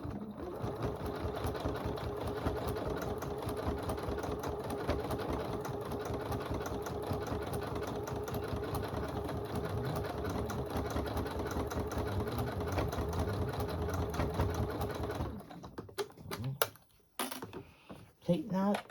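A sewing machine quilts in the ditch on a poinsettia table runner, running steadily and continuously at close range for about fifteen seconds before stopping, followed by a few scattered handling knocks.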